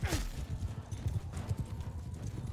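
Cavalry horses gallop in a Mount & Blade II: Bannerlord battle, a dense, continuous clatter of many hooves at fairly low volume, with a faint whinny near the start.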